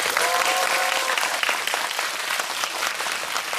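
An audience in a cinema hall at a film guest talk applauds actor Oh Jung-se, with dense, steady clapping filling the room and slowly thinning toward the end.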